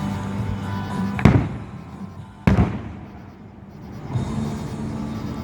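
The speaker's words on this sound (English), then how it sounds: "When the fireworks are done" Fireworks exploding over Birmingham during a 2017 display, two sharp loud bangs a second or so apart followed by rumbling, crackling bursts and a steady low background roar of the crowd and city.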